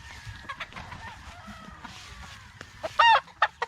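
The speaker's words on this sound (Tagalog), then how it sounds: "Daghan kay puti nga manok." White chickens cluck softly at a Negros poultry seller's, then one bird breaks out in a loud, close crow near the end, followed by a couple of sharp clucks.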